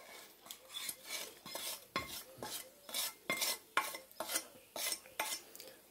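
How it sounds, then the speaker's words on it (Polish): Onion with salt dropped into hot frying pork lard with crackling bits, stirred with a wooden spatula: repeated near scraping strokes and clinks over a soft steady sizzle, no talking. "Dodam całą cebulkę z tą solą."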